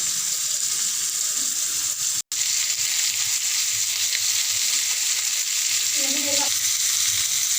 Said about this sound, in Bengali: মনে করেন হালকা তেল দিয়ে মাছটা ভাজবেন